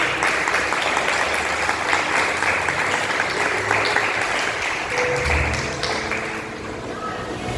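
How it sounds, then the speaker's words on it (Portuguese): A church congregation applauds loudly during a sermon, a dense steady wash of clapping that thins slightly toward the end. "Aplaude o Senhor em nome de Jesus, bem forte para ele."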